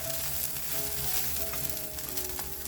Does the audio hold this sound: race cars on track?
no